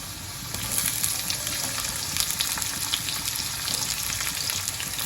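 Potatoes and onions fry in a pan for veg pulao, giving a steady, close sizzling hiss that runs continuously with faint stirring crackles and no talk.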